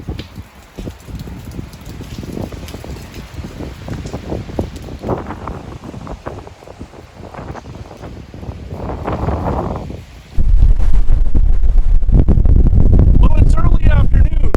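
Strong wind the day after Hurricane Fiona buffets the microphone in gusts, turning into a loud, constant roar toward the end.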